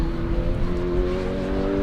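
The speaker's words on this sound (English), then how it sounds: "It's just not revving up through the range." A Roadsports race car exits a chicane with its engine droning loud and close, holding a nearly constant pitch as it fails to rev up through the range.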